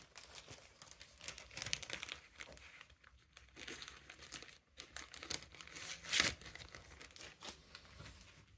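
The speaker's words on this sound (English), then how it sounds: "Put them back in the plastic bag." Plastic bag crinkling and rustling as small model railway scenery items such as pumpkins and lettuces are packed back in, a continuous close crackle with a sharper crunch near the end, no talking.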